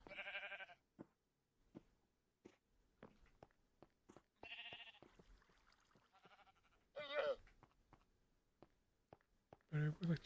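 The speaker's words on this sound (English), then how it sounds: "Very hungry gray sheep, which is fine." Sheep in Minecraft bleat several times in short bursts, mixed with sparse clicks and light game footsteps, close and fairly quiet.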